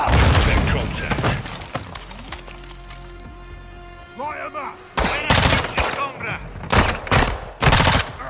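Gunfire in a Call of Duty Modern Warfare II campaign firefight: loud bursts of automatic fire at the start and again near the end, with sharp impacts and shattering, separated by a quieter stretch where voices speak.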